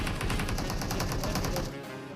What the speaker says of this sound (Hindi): यहाँ पे मेरा टीममेट फायर करता है